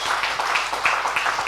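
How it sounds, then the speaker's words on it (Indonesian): Church congregation applauding for Jesus, a dense, steady patter of many hands clapping together, moderately loud and with no voices on top. "Tepuk tangan bagi Tuhan Yesus."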